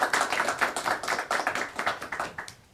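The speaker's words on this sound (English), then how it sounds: "Why don't we give him a round of applause" Quick rhythmic clapping from what sounds like a small group, moderately close, fairly quiet, with no talking over it.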